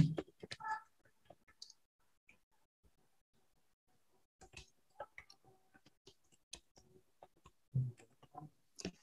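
Typing and mouse clicks on a computer keyboard, scattered light taps in two clusters separated by a quiet stretch, close and soft, with brief bits of voice between.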